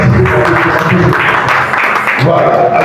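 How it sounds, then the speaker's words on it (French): Applause from a crowd acclaiming Jesus at an international church conference, a dense continuous clapping roar with voices mixed in, loud throughout. "On acclame Jésus"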